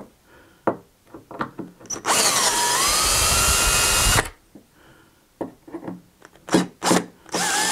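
A power drill backs threaded machine screws out of an RCF subwoofer amplifier panel: one sustained whirring run of about two seconds, surrounded by short bursts, clicks and handling noises up close.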